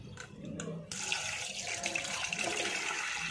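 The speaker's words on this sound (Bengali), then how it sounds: "চলো মাছটা ধুয়ে নিই আগে" Tap water runs strongly into a kitchen sink while fish is rinsed under it, a steady close splashing rush that starts after a few soft knocks and continues unbroken.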